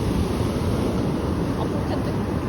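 Steady broadband roar of ocean surf at Mui Ne beach in Vietnam, continuous and fairly loud with wind buffeting the microphone and no clear breaks between waves.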